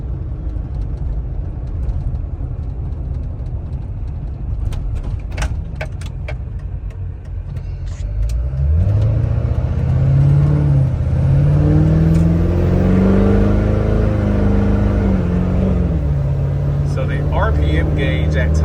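A Hummer H2 fitted with a swapped Duramax diesel engine and Allison transmission drives along, its engine note rising and falling through revs with a loud, close rumble as a voice talks over it in the cabin.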